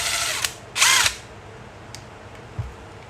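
A power drill backing screws out of a device, heard as two short whirring bursts, the second longer and louder, with faint mechanical clicks and knocks afterward in a quiet room.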